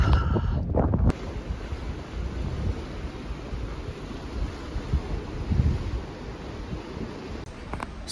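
Sea waves at a seafront, a continuous broadband wash of surf mixed with heavy wind buffeting the microphone, with louder gusts and surges at the start and midway.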